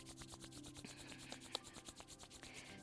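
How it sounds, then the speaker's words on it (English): Palms rubbing together during a core yoga flow, a soft steady rhythmic swishing of skin on skin, close and quiet, with no talk. "begin rubbing those palms together, creating that heat and light within"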